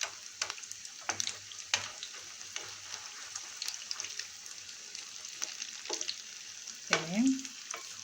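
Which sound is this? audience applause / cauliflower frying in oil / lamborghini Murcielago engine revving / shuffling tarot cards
cauliflower frying in oil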